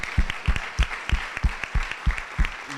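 An audience at a cooperatives annual gathering applauds with distinct, rhythmic claps against a soft background murmur.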